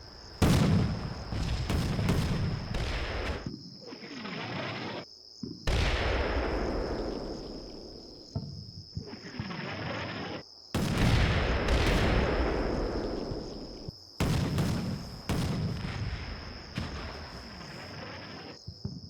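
Artillery fire missions in the military simulation game Combat Mission Shock Force 2, heard as several heavy booming impacts spaced a few seconds apart, each with a long rumbling decay, over a steady high insect-like chirr.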